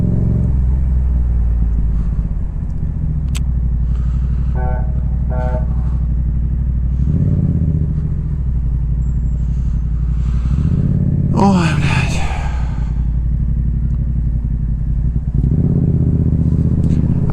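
A motorcycle ridden through city traffic, its low engine rumble droning steadily throughout, with passing vehicles and a brief squeal of brakes or a horn partway through.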